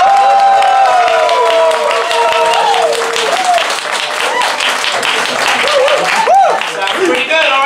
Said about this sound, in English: put your hands together and yell real loud if you think the winner of this fight is Amanda